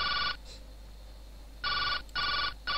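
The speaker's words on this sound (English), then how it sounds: "Oh, it's my phone." A phone rings in the Jake Hunter Detective Story video game, electronic ring bursts with pauses between them, the later ones repeating quickly, loud and clear with no talk.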